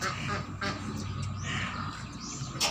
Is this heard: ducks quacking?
yes